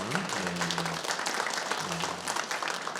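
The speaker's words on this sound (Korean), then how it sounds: "큰 박수로 맞이해 주시기 바랍니다" A church congregation claps to welcome a newly married couple during a Sunday service, a short stretch of even applause from many hands over a low sustained tone.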